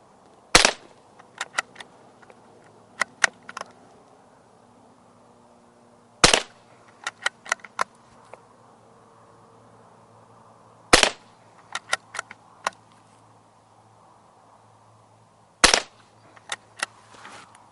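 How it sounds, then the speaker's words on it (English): Rifle shots during a firearm training assessment: sharp, loud reports come singly at intervals of roughly five seconds, each followed by quieter clicks and clatters of handling in a quiet outdoor range. "we present the rifle onto target, load one into the chamber, and again 5 shots in your own time"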